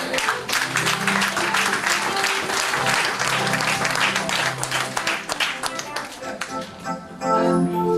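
A church congregation claps in praise of the Lord, steady loud rhythmic applause filling the room, with voices calling out underneath and fading toward the end.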